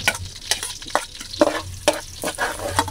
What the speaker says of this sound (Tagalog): kapag medyo mainit na, ang susunod po nating gagawin mga kaibigan, ilagay na po natin ang bawang